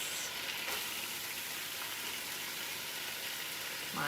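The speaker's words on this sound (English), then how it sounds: "Now I'm going to use the same pan to saute my onion, which I've cut in really small pieces" Finely chopped onion and carrots sautéing in a pan, an even, dense sizzle that holds steady and close throughout with no talking.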